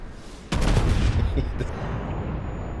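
Heavy battleship guns in World of Warships fire with a sudden deep boom and then rumble and echo for a couple of seconds, while someone talks over the blast.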